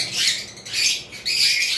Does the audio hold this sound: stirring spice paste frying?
no